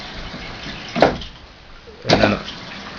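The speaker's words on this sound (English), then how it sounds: "If I were to push this button, the valve will close. You'll hear the water stop." Rushing water with two short surges of flow noise, a brief clunk and hiss each time as a push-button water valve closes, before the steady stream drops back.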